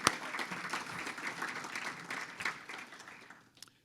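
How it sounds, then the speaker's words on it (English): A lunch crowd at a chamber of commerce event applauds its platinum sponsors with a steady, moderately loud ripple of clapping that rises and falls, then thins out at the end. "Let's give our platinum sponsors a round of applause."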